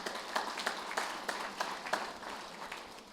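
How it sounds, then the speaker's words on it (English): An audience at a spring banquet claps in a moderate, fairly distant round of applause that tapers off gradually. "Now that you've clapped"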